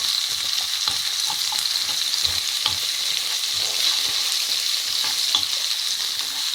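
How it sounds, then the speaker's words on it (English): Chopped onion and chilli sizzle in a pan over low to medium heat, a continuous bright hiss with small crackles and occasional stirring scrapes, close and alone. "I've decided to add that chilli and this onion which has been chopped"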